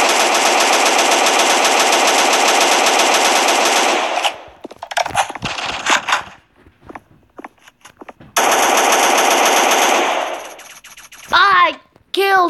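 Machine gun fire in the video game Cops & Robbers: two long, loud, continuous bursts of rapid shots broken by a quieter gap of clicks and handling noises, followed by a brief whine at the end.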